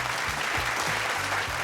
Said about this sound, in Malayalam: ഒരു വലിയ കയ്യടി കൊടുത്തേ രണ്ടുപേർക്കും.